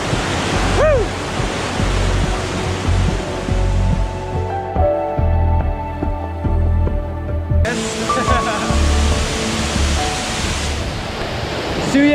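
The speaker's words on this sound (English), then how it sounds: "you can look at waterfalls just powerful and flowing" Powerful waterfall in the Philippines during rainy season, a loud, dense, continuous roar of falling water close by with wind buffeting the microphone and a brief lull midway.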